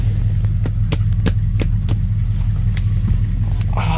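Carbureted engine of a 1970 Oldsmobile Cutlass Supreme running steadily with a deep, even low rumble and periodic sharp ticks, heard close with no talking.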